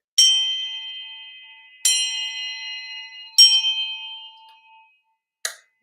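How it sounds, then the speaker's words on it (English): A loud handbell struck with a mallet rings out three times in clear, bright strikes, each tone ringing and decaying slowly, then a short fourth tap is quickly damped. No voices are heard. "This is also a handbell, which is really loud"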